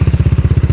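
Yamaha Mio scooter engine with a drilled-out, modified exhaust running steadily, a close, loud, rapid pulsing putter with a throaty low rumble and no talk.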